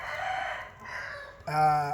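An egg-bound hen clucks and croons nearby in a few drawn-out calls, the last one louder and more nasal, with no talking.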